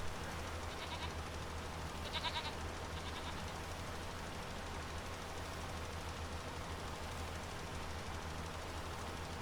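Goats in Farming Simulator 25 let out a few short, faint bleats, heard two or three times in the first few seconds over a steady, low farm-machinery engine hum.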